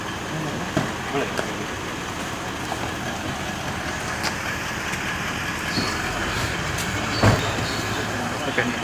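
Inside a moving bus, the engine drones steadily beneath road rumble and rattling, a constant loud background with a few brief knocks.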